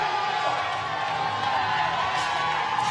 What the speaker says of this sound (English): Listen to this crowd bringing these 2 guys home